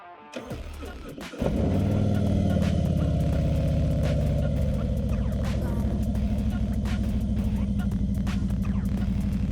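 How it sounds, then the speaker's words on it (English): A 2024 Harley-Davidson Road Glide Limited motorcycle fires up after a brief start and settles into a loud, steady, deep rumbling engine note that holds close and continuous throughout. "I'm on top of this 2024 Road Glide Limited. Let's take this thing for a spin."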